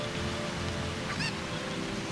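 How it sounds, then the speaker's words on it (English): A Cucco chicken from the Zelda Ocarina of Time video game gives a single short cluck, fairly faint, over a steady bed of game background ambience. "No, no, no! Come on, chicken!"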